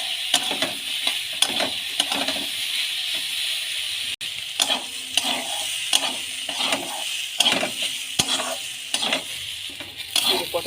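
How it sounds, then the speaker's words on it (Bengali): Pointed gourd slices fry in a pan with salt and turmeric, a steady close sizzle broken by repeated scraping stirs of a spatula at an irregular rhythm, no voices. "এই যে পটলটা ভাজা হচ্ছে।"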